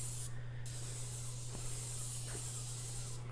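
A spray gun hisses steadily, close and loud, while painting a truck tool box, one continuous spray with a brief dip near the start and a low steady hum underneath.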